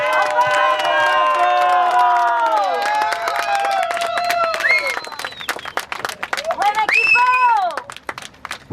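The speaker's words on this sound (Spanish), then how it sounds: "Un aplauso." Crowd at an outdoor rowing regatta trophy presentation in Cesantes, Redondela, cheering and clapping loudly over strong announcer speech and music-like tones, with a swell of cheering near the end.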